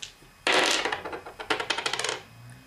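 Two dice rattle as they are rolled, first a loud clattering burst, then a run of quick bouncing clicks that settle and stop, close by and alone.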